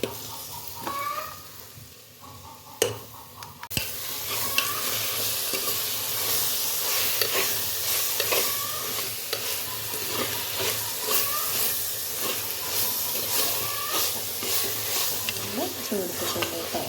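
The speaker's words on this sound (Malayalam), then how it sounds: "സവാളയും ചതച്ച കൊച്ചുള്ളിയും വെളുത്തുള്ളിയും ഇഞ്ചിയൊക്കെ അതൊക്കെ ഒന്ന് നല്ലോണം വഴണ്ട് വരണം" Onion, crushed shallots, garlic and ginger sauté in a hot pan, a continuous loud sizzle with repeated scraping stirs and occasional sharp clacks of the spoon against the pan.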